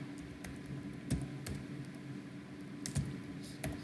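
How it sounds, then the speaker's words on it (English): Typing on a computer keyboard: soft, irregular key taps and a few firmer strokes, close and fairly quiet over a faint steady background. "Keyboard."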